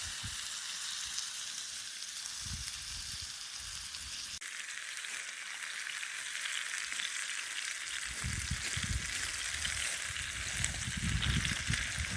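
Oil crackles and sizzles steadily in a pan as it is swirled around, a close, continuous bright frying hiss with occasional low knocks of the pan.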